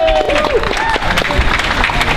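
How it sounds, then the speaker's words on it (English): Rally crowd clapping and cheering in a continuous loud wash, with voices and shouts mixed through it. "Give yourselves a round of applause."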